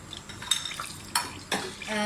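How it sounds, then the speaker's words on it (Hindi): Whole spices go into a hot, deep cooking pot for mutton rogan josh, with a few close metallic clinks and scrapes of utensil on pot and a faint sizzle. "पतीला हमारा गर्म हो गया। आप चाहें तो प्रेशर कुकर में भी बना सकते हैं। मैं काफ़ी गहरी सी पतीली है उसमें बना रही हूँ। सबसे पहले इसमें साबुत मसाले डाल दें।"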